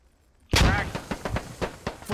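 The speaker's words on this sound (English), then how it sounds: "Mortars coming in." Incoming mortar fire in the military shooter SquadOps: a sudden heavy blast lands, then a string of sharp, repeated impacts and cracks keeps hitting in a loose rhythm, fairly close and loud.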